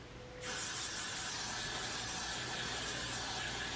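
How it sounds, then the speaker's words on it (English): Spray bottle misting product onto the front of a transparent lace wig, one continuous close hiss that starts abruptly after a brief pause and holds steady to the end. "I'm gonna just quick spray this down in the front"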